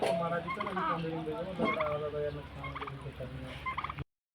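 Turkeys on a poultry farm gobble repeatedly nearby in rapid, bubbling bursts, several calls overlapping before the sound cuts off abruptly.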